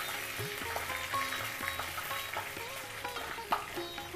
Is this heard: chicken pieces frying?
yes